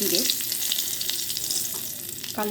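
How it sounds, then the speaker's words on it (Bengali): Black cumin (nigella) seeds tempering in hot oil left from frying pomfret fill a pan with a loud, dense sizzle, a few stirring scrapes and spatters ticking through, with no one speaking. "মাছ ভাজা হয়ে এসছে, এবার আমি ওই তেলেই ফোড়নে দিয়ে দিচ্ছি কালো"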